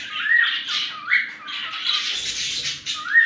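Pet birds kept in a tray box give loud, repeated squawks and rising calls close by, in quick bursts with short gaps and no talking.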